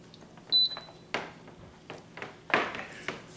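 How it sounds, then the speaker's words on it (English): A single short electronic beep sounds twice in quick succession as an Instant Pot pressure cooker powers on, followed by a few clicks and knocks of handling the appliance. "Have our little beep. It says off on there when it first fires up."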